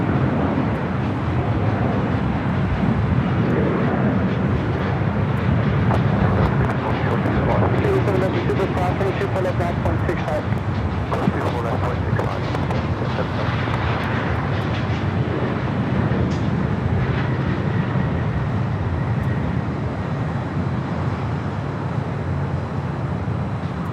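An Airbus A380 Super taxis across runway 24 Left at LAX toward the Tom Bradley gates, a loud continuous engine roar and rumble with traffic-like wash filling the scene, a voice talking over it.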